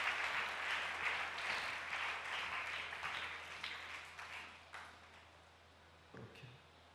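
Congregation at a church meeting applauds steadily for Jesus, a broad wash of clapping that fades gradually over several seconds, with a faint bright ping and a brief thump near the end.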